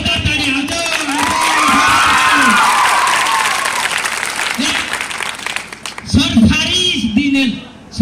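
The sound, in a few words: audience applause at a school farewell program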